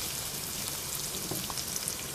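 Onions sauté in a pan with a soft, even sizzle and faint crackle throughout the short stretch, with no voices.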